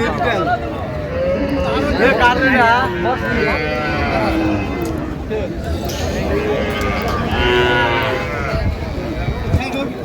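Cows and calves at a busy rural cattle market in Raniganj, Dinajpur, lowing among loud crowd chatter and nearby voices talking throughout.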